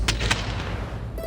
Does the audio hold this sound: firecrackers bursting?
yes